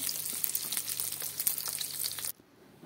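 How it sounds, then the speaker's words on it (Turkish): Fat melting in a pan on a stovetop gives a steady, faint, crackling sizzle for a couple of seconds, then cuts off abruptly to near silence. "Ocağa götürüyorum ve ocakta eritiyorum yağlarını."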